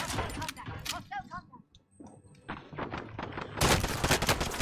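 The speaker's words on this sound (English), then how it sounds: "Wait, what is this gun? It's a burst." Close gunfire from a burst-fire gun in the video game Warzone comes as rapid cracking bursts, briefly separated by quieter gaps and ending in a dense volley.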